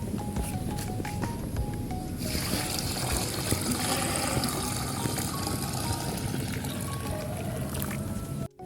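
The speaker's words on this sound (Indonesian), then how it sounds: "Lalu kita tambahkan 4 liter air." Four liters of water poured into a farm mixture, a steady continuous splashing pour that fills the whole stretch and cuts off abruptly at the end, with no talking.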